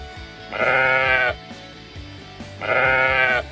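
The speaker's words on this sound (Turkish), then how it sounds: "İşte bir sarı koyun." A sheep bleats loudly and close twice, each long wavering call followed by a pause, during a children's farm-animal toy play session.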